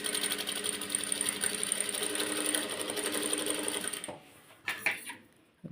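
Jack F5 sewing machine stitching on black fabric with blue thread: a loud, fast, steady mechanical whirring rattle that runs continuously for about four seconds, then stops, followed by a few light clicks and handling knocks.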